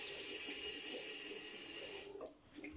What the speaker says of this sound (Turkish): Bazılarımız suyu açık bırakır.